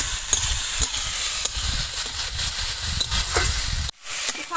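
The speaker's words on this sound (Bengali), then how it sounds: "হালকা একটু ভেজে নেব।" Vegetables including chopped tomato lightly frying in a pan for chicken momo soup, a steady close sizzle and hiss with occasional stirring clatter and a brief sharp pop near the end.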